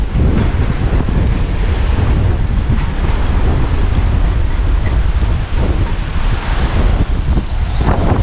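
Strong wind roars across the microphone on a sailboat at sea, and heavy waves wash constantly beneath it. The noise stays loud, dense and unbroken throughout.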